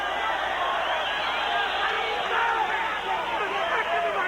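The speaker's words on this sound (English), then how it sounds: "Here the crowd halfway through this round wanting something to happen with the whistles." Boxing crowd at a Bernard Hopkins versus Segundo Mercado bout whistling mid-round, a dense steady wash of whistles and murmuring crowd noise with no clear breaks.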